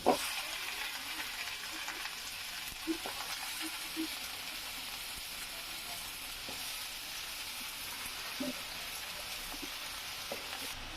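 Malabar spinach leaves go into a pan of frying prawns, producing a continuous bright sizzle and hiss with occasional soft clicks of stirring, steady and close throughout.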